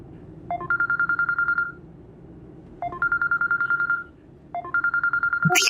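A telephone rings with an incoming call in three repeated bursts of warbling electronic tone, evenly spaced over a low indoor background hum, clear and close.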